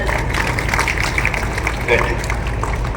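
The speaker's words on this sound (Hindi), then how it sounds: "तो किरण जी के लिए सब लोग ताली बजाएं पहले।" An audience claps together for a woman named in a motivational talk: a steady, dense wash of applause that stays evenly loud for about three seconds, with faint voices underneath.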